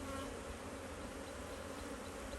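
Dense, steady buzzing of many honey bees around hives fitted with 2-gallon frame feeders, close and continuous throughout without a break.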